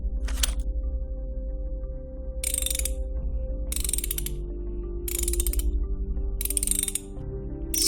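A hand wrench ratchets in five or six quick bursts of clicking, each a second or so long, close and crisp over a low steady hum, with no talking.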